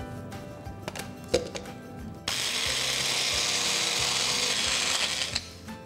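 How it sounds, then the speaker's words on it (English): A mixer grinder jar coarsely grinds a biryani spice mixture, starting with a few clicks and clatters before a loud, steady whirring grind that runs for several seconds and then stops. "now I'm going to grind it into a coarse mixture. So let's put this into a mixy jar."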